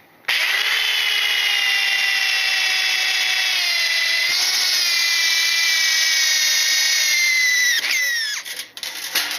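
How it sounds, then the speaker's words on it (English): Power drill boring guide holes into 304 stainless steel for a gas grill heat shield, a loud sustained high whine that holds steady, dips slightly partway, then cuts off near the end. "using a small drill bit and punching a bunch of guide holes, starter holes"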